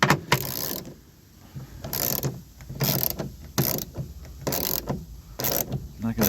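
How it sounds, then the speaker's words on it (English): Ratchet wrench tightening down a replacement side mirror on a 2000 Toyota Avalon, a series of close, loud clicking bursts in an uneven rhythm with brief pauses between strokes. "I'm gonna tighten it down"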